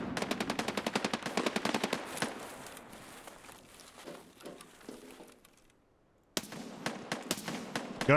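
Automatic gunfire in the shooter Escape from Tarkov (SPT) on the Customs map: rapid, loud rattling bursts at first, then scattered quieter shots, a brief near-silent gap, and a fresh burst of fire.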